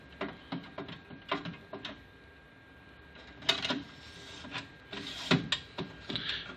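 Plastic and metal component sliding back into an Atronic slot machine, giving a run of close, quiet scraping clicks and rattles, with a burst of louder knocks and shuffling near the end.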